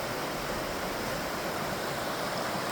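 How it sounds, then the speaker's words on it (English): Water pours over rocks near a bridge in the countryside, making a steady, dense rushing hiss that stays constant and fairly close, with no voices. "listen to that water coming over them rocks"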